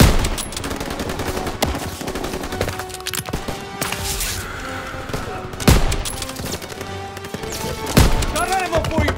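Machine gun fire rattles in a Call of Duty: WW2 battle, sustained and dense with occasional louder blasts, heard under shouted voices and battlefield noise.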